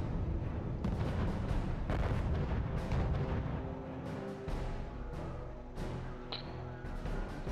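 Repeated booming shots from anti-tank guns in the strategy video game RUSE, a multiplayer 2v2 match on the Cauldron map, with several heavy reports and rumbling echoes over about seven seconds and no speech.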